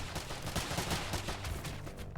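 Dense battlefield gunfire from snipers and pistols in the strategy game Warside, a steady crackle of rapid shots layered over low rumbling booms, loud and continuous with no pauses.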